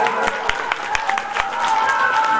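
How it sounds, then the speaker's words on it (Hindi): An audience applauds at a Hindi poetry and song stage event as a performer is welcomed to the stage, steady dense clapping filling the hall for a couple of seconds with scattered louder claps. "तालियों द्वारा स्वागत करिएगा इनका।"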